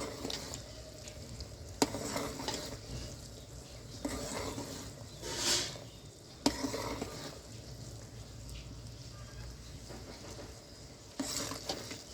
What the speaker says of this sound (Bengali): এই আমরা আমরা এটাকে ঘন ঘন নাড়তে থাকবো